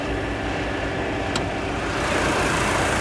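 A restored ex-taxi Toyota Crown idles with its hood open: a steady, even engine hum recorded close up, growing slightly louder and rougher partway through, with no talking over it.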